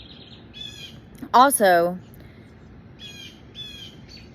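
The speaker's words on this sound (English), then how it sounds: "Bird, will you please quit?" A bird squawks and chirps close by in a loud burst of harsh, rising calls near the middle, with lighter chirps before and after over a quiet indoor background.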